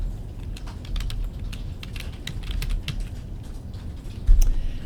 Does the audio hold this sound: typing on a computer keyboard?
yes